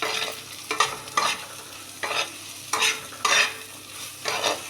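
Chopped onions frying in a little oil in a pan, with repeated bursts of stirring and scraping over a steady sizzle, close and fairly loud.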